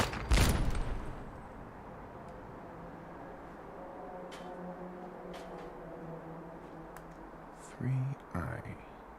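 A loud burst of gunfire opens a firefight in Fallout 4, fading to low rumbling background, then two short, sharp bursts of shots close to the end.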